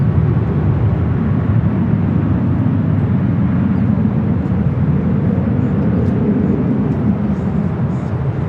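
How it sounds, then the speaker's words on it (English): SkyWest Embraer E-Jet in Delta Connection service rolling down runway 24 Left at Los Angeles International Airport, a loud, steady low roar of jet engines with no voices. "Delta connection, SkyWest EJet now rolling down to 24 left."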